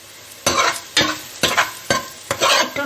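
Rice seasoned with ground black pepper is stirred in a pan, giving about six distinct scraping sweeps in an even rhythm, close and fairly loud, with a faint sizzle underneath and no voices.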